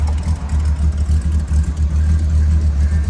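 A 1929 Ford Model A with a big block engine and dual glass pack exhausts idles with a deep, lumpy rumble that pulses unevenly. It is close and moderately loud, with no speech over it.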